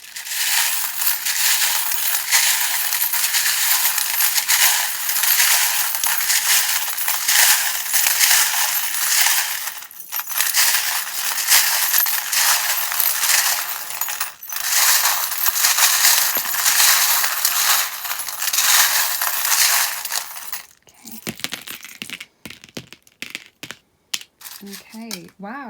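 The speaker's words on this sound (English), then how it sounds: "If you don't like the sound of the charms, just turn down your volume now." Metal tarot charms dropped and shuffled onto cards during a pick-a-card reading, a dense continuous clattering and jingling that runs loud for about twenty seconds, briefly pausing twice, then gives way to sparse clicks and faint speech.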